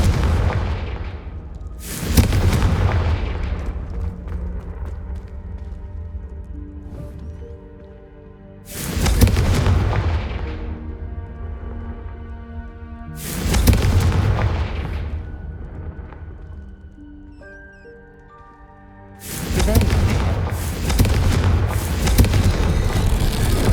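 The Confringo fire spell bursts repeatedly in Hogwarts Legacy: four loud, deep booms spaced several seconds apart, each with a rumbling tail that fades before the next blast.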